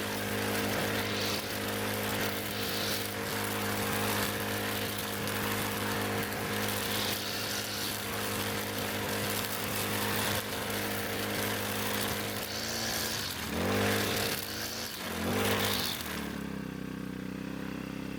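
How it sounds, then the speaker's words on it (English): A string trimmer cuts grass on a mountain farm in northern Vietnam, its small engine droning steadily at close range with brief revving dips near the end before it cuts off, and no talking. "The trimmer line has worn down to almost nothing, so I think that's enough for today."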